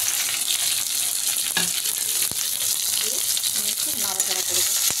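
Chopped onion goes into a pan with ginger paste for bottle gourd and prawn curry and fries with a steady sizzle. A few stirring clinks and a voice come through over it.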